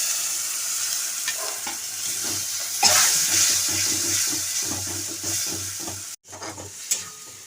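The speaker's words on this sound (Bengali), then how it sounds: "জলটা দিয়ে দিচ্ছি" Water splashes into a hot cooking pan coated with ground coriander, cumin, turmeric and chili powder, giving a continuous close hiss and sizzle with bubbling, stirring clatter and a brief cutoff near the end.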